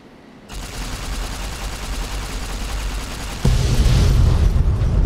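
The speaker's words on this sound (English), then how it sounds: "Wow, that explosion was nice." A warhead explodes in the video game Fallout New Vegas, Lonesome Road DLC: a sustained, loud, dense roar of blasts and crackling that swells into a heavier, deeper boom partway through.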